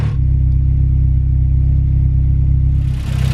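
Honda Civic DX engine idling steadily while running on dumped fuel from the regulator until it starves, a loud, close, low rumbling drone with even pulsing throughout.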